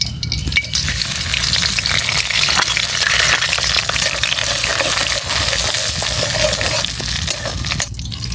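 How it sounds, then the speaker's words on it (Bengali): Bay leaf, whole cumin, whole dried chillies and whole garam masala sizzle and crackle steadily in hot mustard oil, a loud, close frying hiss with occasional stirring, in a village kitchen, with no talk. "এবার দিয়ে দিব ফোড়নে তেজপাতা, গোটা জিরে, গোটা শুকনো মরিচ আর গোটা গরম মশলা"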